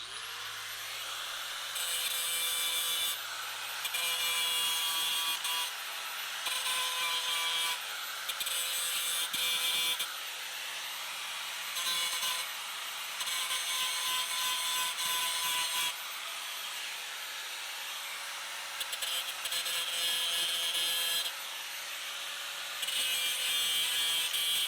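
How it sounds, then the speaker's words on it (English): A power tool grinds and polishes the burred edges of a Bandit 2550 stump grinder wheel in repeated bursts of high, rasping contact that stop and start over a steady motor whine. "we're just gonna lightly polish these edges here, and probably a little bit on this flat face"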